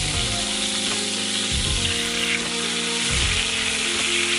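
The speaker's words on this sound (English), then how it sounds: "so I'm going to go ahead and get these other pieces in. Brown these up." Pork chops sizzle steadily while browning in a hot pan, a dense continuous frying hiss with faint stirring or shifting noises, close and loud, with no talking.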